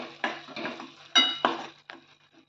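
A spoon scrapes and stirs masala with turmeric in a pan for chole, several short gritty strokes in quick bursts with a faint sizzle underneath.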